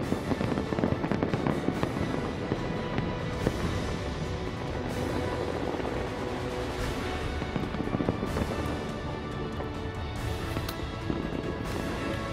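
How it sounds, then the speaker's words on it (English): A New Year fireworks display in Dubai booms and crackles without pause, dense overlapping bursts and sharp pops heard from a distance with a constant roar beneath them. "clearly no expense spared on the Dubai fireworks display here."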